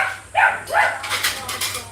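A guard dog in a Philippine home gives a couple of quick, close barks with a whiny yelping edge, followed by a person speaking.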